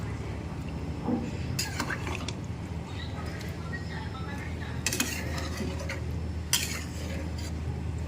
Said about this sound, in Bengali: ভালো করে মিশিয়ে দিয়েছি,